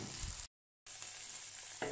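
Spices stir-fried in a pan for a Thai tom yam without coconut milk, a loud, dense sizzle with a brief gap in the middle and no talking.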